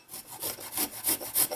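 Garlic rubbed against an X-Chef microplane grater, five quick rhythmic rasping strokes close to the ear with no talk.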